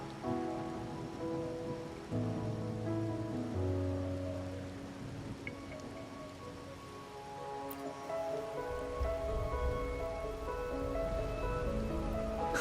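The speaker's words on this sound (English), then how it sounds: "Or are you simply passing the time until the rain ends?" Steady rain at night in the video game Wuthering Waves, a continuous soft patter under a layered musical score, holding at moderate loudness throughout.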